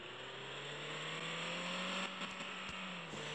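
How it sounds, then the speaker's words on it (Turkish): A car engine in the driving game Driving Zone Russia revs up in a steady rising whine, loud and close, with a brief dip near the end and no talk. "Arabayı ısıtalım."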